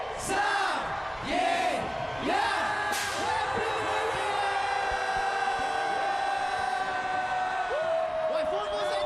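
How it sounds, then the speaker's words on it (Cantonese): A large crowd at a New Year countdown concert cheers and yells loudly, with whooping voices rising in bursts and sustained shouts filling the space close to the listener. "喂，歡呼聲多啲啊！"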